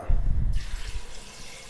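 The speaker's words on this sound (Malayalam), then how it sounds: "ഇനി ഇതിലേക്ക് രണ്ടര കപ്പ് വെള്ളം കൂടി ഒഴിച്ചു കൊടുക്കാം" Water pours steadily into a metal pressure cooker, a hollow splashing rush that settles into a softer fill, close up with no talking.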